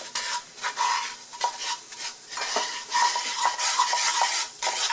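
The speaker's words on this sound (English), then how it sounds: "And I'm going to stir that." Paprika being stirred into simmering garlic in a soup pot for Hungarian green bean soup: a spoon scrapes and clinks against the pot in repeated close strokes over a faint sizzle.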